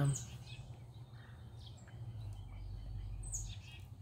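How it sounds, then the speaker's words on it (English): Birds chirp and call intermittently at a distance in a yard, light high tweets scattered over a steady low outdoor rumble. "my yard is full of beautiful, beautiful birds"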